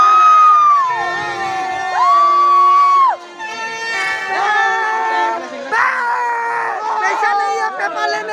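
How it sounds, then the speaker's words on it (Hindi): A packed crowd at a Shivratri festival fills the air with loud, close shouting and drawn-out, wavering calls that rise and fall over a constant babble. "बहुत भीड़ है, बहुत बहुत बहुत बहुत भीड़ है।"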